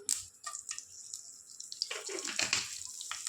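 Mustard seeds and chana dal spluttering in hot oil for a brinjal palya, giving a close, crackly rush of hissing pops that starts sparse and thickens into dense spattering toward the end, with no voices.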